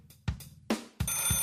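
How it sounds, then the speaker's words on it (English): Old-fashioned telephone bell rings in loud, clanging bursts, three short rings in quick succession, near and alone with no voices. "He answered his own phone in the White House."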